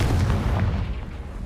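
A Confringo spell in Hogwarts Legacy goes off as a loud, close, low booming blast that rolls and fades over about a second and a half.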